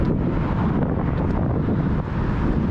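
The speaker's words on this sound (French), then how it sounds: "Ça rentre fort là. Le vent, on avance" Strong headwind buffeting the microphone while bikepacking on a road in Canada, a loud continuous roaring rumble with no voices.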